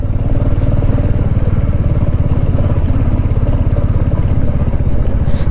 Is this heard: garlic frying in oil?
no